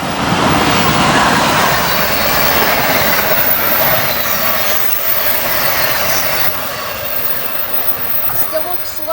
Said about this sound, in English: I think that might be an Acela.